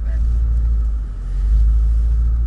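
A 2016 Range Rover Sport SVR creeps slowly over off-road bumps. Its engine gives a deep, steady rumble with a slight dip and swell in loudness; no distinct bump impacts stand out.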